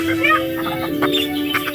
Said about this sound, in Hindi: क्या तुम्हें कहीं ये बची हुई दो मुर्गियाँ दिख रही हैं?